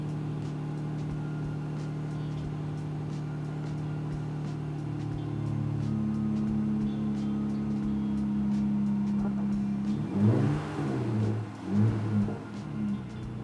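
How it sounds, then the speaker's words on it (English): A Jeep 3.6 Pentastar V6 runs at a steady idle after a dry start, a smooth hum with a slight rise in pitch partway through, then a few louder rough bumps and voices near the end. "Now we're going to let it run and let that oil circulate throughout the entire engine."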